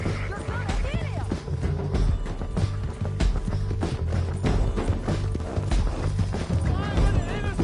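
Horse hooves clip-clopping in a PlayStation 4 video game, a busy rhythmic patter mixed under game sounds and chatter, fairly loud and continuous.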